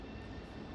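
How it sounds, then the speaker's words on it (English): An airplane overhead gives a steady, low engine drone that holds even and moderately loud through the brief moment, with no voices. "never mind the airplane here"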